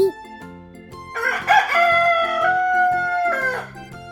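A rooster's cock-a-doodle-doo crow rings out loud and close, a long drawn call over a simple background tune.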